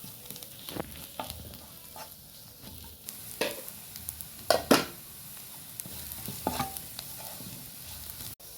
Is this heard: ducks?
no